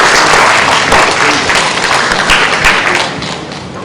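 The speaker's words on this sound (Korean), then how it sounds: "큰 박수 부탁드리겠습니다" An audience at an Ubuntu community conference talk bursts into loud, dense applause that stays strong and close for nearly four seconds before starting to fade slightly.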